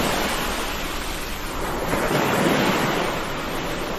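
Ocean waves in a scary video game make a continuous, close, wind-tinged surf wash that swells briefly near the middle and carries no voices.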